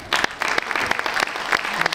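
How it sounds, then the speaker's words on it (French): A small group claps together before raising glasses for a toast, lively and uneven, the separate hand claps easy to pick out, close by and continuous. "J'aimerais ça que vous vous applaudissiez cette fois-ci"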